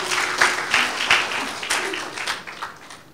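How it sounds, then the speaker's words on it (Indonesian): Audience applause during an online church worship service, a burst of clapping that swells and ebbs in waves before gradually fading out toward the end. "Kita harus berikan tepuk tangan yang meriah."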